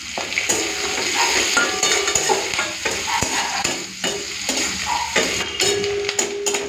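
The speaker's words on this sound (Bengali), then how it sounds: "তো পেঁয়াজ আর লঙ্কাটা ভেজে নিয়েছি" Chopped onion and slit green chillies frying in hot oil with tempering spices, a steady close sizzle broken by the scrape and clink of a spoon stirring the pan.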